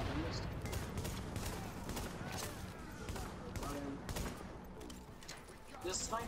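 Gunfire in The Division during a Times Square power relay mission: scattered sharp shots and bursts cracking over a dense, noisy battle mix, fairly quiet overall, with voices talking over it.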